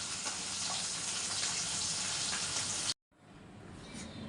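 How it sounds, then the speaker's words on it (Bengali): Hands are washed under a running kitchen tap, a steady close hiss of flowing water that cuts off abruptly, followed by a quieter stretch of faint water and handling. "হাতটা ধুয়ে নিই আমি।"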